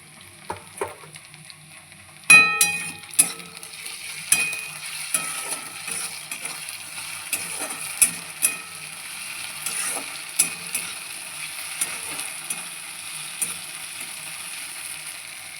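Onions fry in a pan with ginger and chili paste added, a quiet steady sizzle with scattered soft scrapes and taps of stirring, one louder clatter early on, close but fairly faint.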